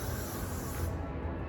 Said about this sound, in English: Okay, so I'm gonna use the freeze spray.